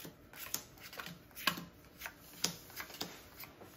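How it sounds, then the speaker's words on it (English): Riffled playing cards in a poker shuffle, giving a few soft papery flicks and taps at irregular moments, quiet and close, against a faint background hiss, with no speech. "Is this the poker shuffle?"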